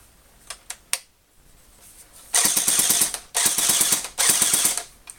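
An airsoft gun fires on full auto in three loud, rapid bursts of mechanical rattling, each about a second long, after a few isolated clicks from handling.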